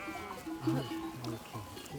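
Sheep on a mountain drive to high pasture bleat a few times over a low background, with some faint voices mixed in.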